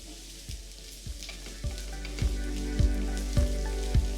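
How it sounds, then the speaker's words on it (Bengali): Onions and cashews fry in a pan with a constant close sizzle, broken by regular thumping stirs of the spoon about every half second. "আর কাজুটাকে এই পেঁয়াজের সাথে একটু লাল লাল করেই ভেজে নেবেন"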